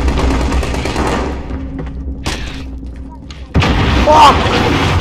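A grenade explodes and gunfire rattles in a Call of Duty Modern Warfare match, a series of sharp booms and bursts, then a louder blast, with shouting voices mixed in.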